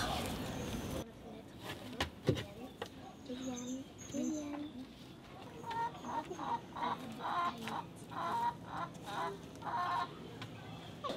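Hens cluck in short, repeated bursts at moderate distance, with a person talking over the background at times.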